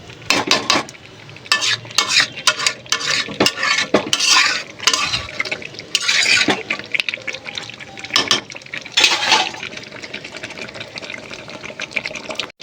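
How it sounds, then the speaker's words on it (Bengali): Mutton and potatoes sautéed in oil in a wok, with loud repeated scraping and clattering of a spatula against the pan over a low sizzle, in uneven bursts throughout. "আর একটু ভালো করে কষাবো যতক্ষণ না তেল ছেড়ে আসছে।"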